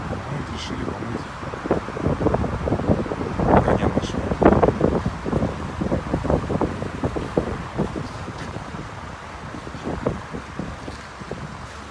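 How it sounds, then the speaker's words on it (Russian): Strong wind buffets the microphone outdoors at a car wash on a cold day, producing loud irregular gusty rumbles that swell in the middle, with someone speaking briefly over it. "И ветер ощутимо."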